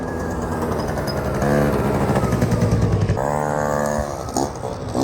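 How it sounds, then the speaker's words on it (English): A Suzuki Choinori motorcycle fitted with a two-stroke Adley engine runs loudly close by, its buzzy exhaust note rising and falling as the throttle is revved and eased off. "Suzuki Choinori with an Adley engine."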